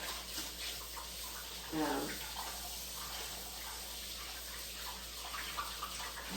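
Hands rinsed under a running kitchen tap, a soft, steady stream of water splashing in a sink at moderate distance, with a brief louder splash partway through and faint speech in the background.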